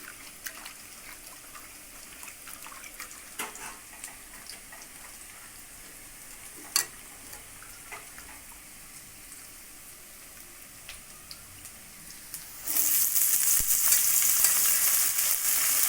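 Steady sizzling of onions sautéing in a pan with faint stirring clicks, growing noticeably louder and brighter toward the end.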